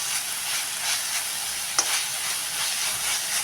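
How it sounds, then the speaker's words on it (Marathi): Green chilli thecha made with curd sautéing in a pan, a constant bright frying hiss with faint stirring scrapes and one small clink, close and even throughout, no voices. "बघा कसा परतून तसा छान व्हायला सुरुवात झालेली आहे"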